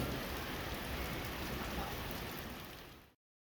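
Heavy downpour of rain falling steadily on surfaces in Munich near the Saint-Michel exit, a dense, continuous hiss that runs throughout and fades out at the end.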